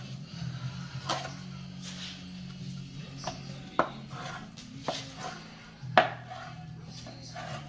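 A Cutco butcher-style knife slices beef into thin strips on a board, giving a few sharp, close chops and knocks spaced irregularly over low kitchen background noise.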